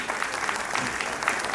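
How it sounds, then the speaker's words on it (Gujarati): Audience applause at a Bhagavat Katha religious gathering in Nashik, honouring a visiting singer and his troupe from Dakor: a steady, dense wash of clapping from a sizeable crowd, moderately loud and continuous throughout. "એવા જોરદાર તાળીઓ કરો"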